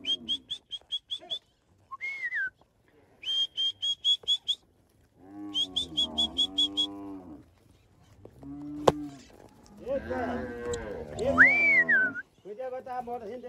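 Several cattle moo loudly and close in a working corral, long low calls overlapping one another, interspersed with high whistle-like tones and a sharp knock.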